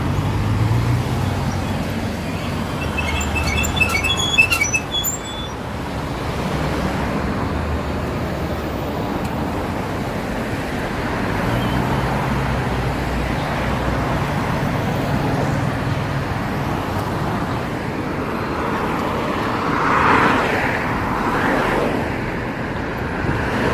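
Steady road traffic at a street crossing in Huaqiangbei, Shenzhen: a continuous wash of car, bus and truck engines and tyre noise, fairly close, with a brief swell of passing vehicles toward the end and no talking.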